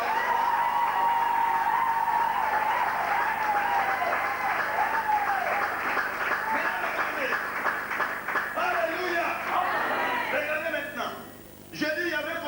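A crowd at a French-speaking religious gathering applauds and cheers in a loud, sustained wash of clapping that fades slightly near the end, with voices mixed into the noise.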